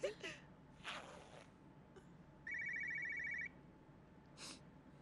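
A telephone rings with an incoming call in a Turkish TV drama scene, one steady electronic ring lasting about a second amid quiet room noise, with a few soft sounds before it.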